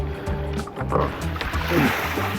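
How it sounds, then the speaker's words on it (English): Rinse water pours and sloshes out of a laundry basin outdoors, a close, splashing gush over a low hum. "So go ahead and pour the water out however you need to."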